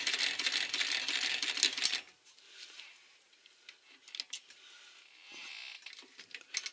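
A sewing machine stitching a shelter pouch runs in a loud, dense whirr for about two seconds, then stops, leaving faint ticks and handling noises.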